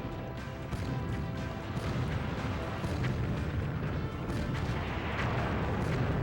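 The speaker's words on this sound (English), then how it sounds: "I'm just taking out all the turrets and gun buddies that are around this last fortress in the northeast corner." A tank in the N64 game BattleTanx fires on turrets and gun buddies, giving a dense, continuous wash of booming shots and explosions layered over game noise throughout.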